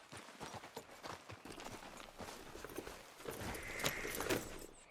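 Horse hooves clip-clop at a steady walking rhythm in the video game Red Dead Redemption 2, fairly quiet and close, with light tack jingling and no talk over them.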